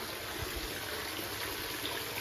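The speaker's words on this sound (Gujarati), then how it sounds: "પાણી આપણું જાય છે ધમધોકાર" Water gushes out strongly in a steady, dense rushing stream, close and continuous with no pauses or voices.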